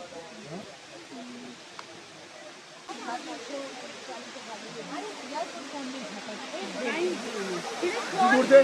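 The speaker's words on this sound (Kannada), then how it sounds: "ಫಸ್ಟ್ ವಾಟರ್ ಫಾಲ್ಸ್ ಬಂದ್ಬಿಟ್ಟು ಇಲ್ಲಿದೆ, ಬನ್ನಿ ತೋರಿಸ್ತೀನಿ ಹೇಗಿದೆ ಅಂತ." Elephant Falls, a three-tiered waterfall in Shillong, Meghalaya, gives a steady broadband rush of falling water, with a person talking over it throughout.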